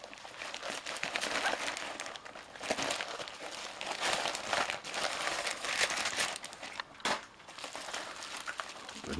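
A parcel wrapped in several layers of tape is being pulled open nearby, with continuous crinkling, crackling and tearing of tape and packaging for several seconds.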